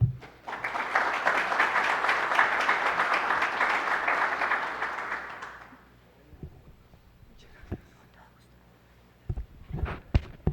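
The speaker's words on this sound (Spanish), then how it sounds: "lo recibimos con un fuerte aplauso" Audience applause welcomes a speaker to the stage at a seminar on new trends in refrigerant gases, a steady round of clapping for about five seconds that fades out, followed by footsteps and small handling noises.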